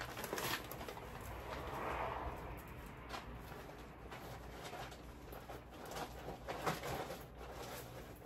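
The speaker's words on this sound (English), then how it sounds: "A woodpecker in my front yard." Bird calls in a front yard, said to come from a woodpecker, sound faint and distant against steady outdoor background noise, with a few soft patters throughout.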